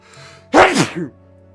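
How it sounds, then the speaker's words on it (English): A single loud, sharp sneeze bursts out after a brief quiet moment, close to the microphone, with a short breathy tail. "I feel a sneeze coming."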